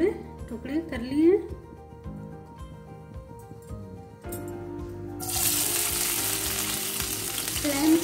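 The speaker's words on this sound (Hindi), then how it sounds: "बचे हुए तेल में हम डालेंगे 1/2 कप लहसुन।" Sliced garlic drops into leftover hot oil and fries in a kitchen, a low sizzle that bursts into a loud, steady hiss partway through, with a person talking over it.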